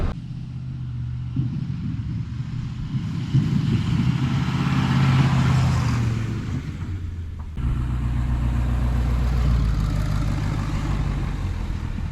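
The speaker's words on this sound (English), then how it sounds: "I'm gonna set the camera down and do a little drive-by and see how that goes" A Ford F250 with a 6.7 engine, wrecked and out rock crawling off-road, rumbles past in a drive-by; a low engine drone builds and fades, then a steadier idle-like hum continues close by.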